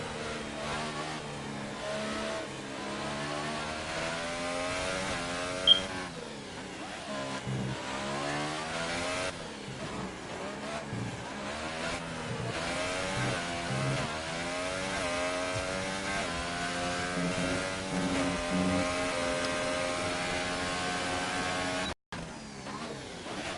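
A race car engine on an onboard lap of the Spain circuit in a racing video game, steadily loud with revs rising and falling through gear changes and braking, running alone without talk.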